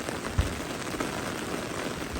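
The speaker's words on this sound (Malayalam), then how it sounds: "നല്ല മഴ നോക്കിയോ." Heavy rain pours steadily during a fishing outing, a dense even hiss of drops hitting surfaces with a couple of sharper close splashes.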